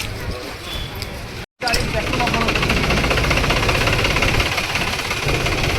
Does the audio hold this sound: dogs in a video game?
no